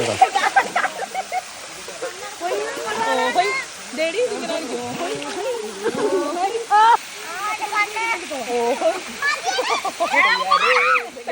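Anachadikuthu Waterfalls roars in the background while people splash in the pool below, with lively chatter and children's voices over the rushing water throughout.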